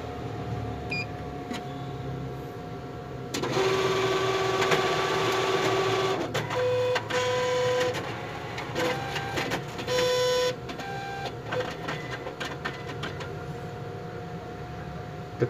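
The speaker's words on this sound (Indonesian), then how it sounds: "mesin akan mencetak setoran yang kita masukkan tadi" A post office ATM in Taiwan whirs and buzzes in bursts as it prints a deposit slip, with a steady electronic tone and short beeps over a quiet room hum.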